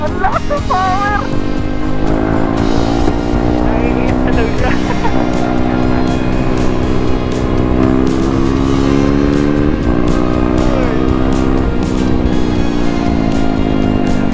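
A KTM RC 390 motorcycle ridden on the road, its engine droning steadily and loudly the whole way with rising and falling pitch as it revs, while a voice speaks over it.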